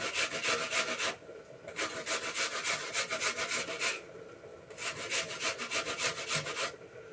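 An apple being cut into small pieces with a sharp knife, rhythmic rasping strokes in two steady bursts separated by brief pauses, close and fairly loud, no talking.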